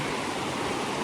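A river rushes past in a steady, broad wash of flowing water along the Kumano Kodo trail in Japan. It fills the whole moment evenly, with no voices over it.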